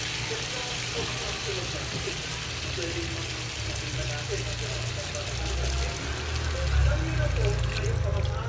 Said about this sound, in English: I will now add a little water to deglaze more flavor from the pan.